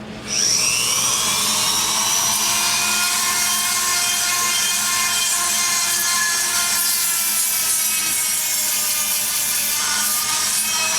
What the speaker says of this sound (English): I'm gonna do a rough sand for you guys on one port right now